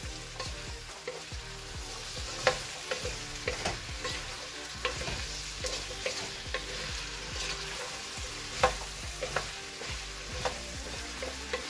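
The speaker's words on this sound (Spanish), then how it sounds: "Removemos bien." Squash and carrot cream cooking in a pot: repeated stirring strokes and spoon scrapes over a soft steady sizzle, fairly quiet and close, with no one speaking.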